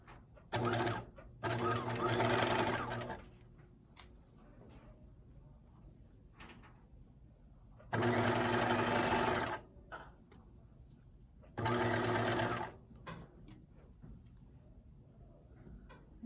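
Sewing machine stitching a 5/8 inch seam on a fleece pullover, several short buzzing runs of a second or two each with pauses between, while someone talks quietly in the gaps.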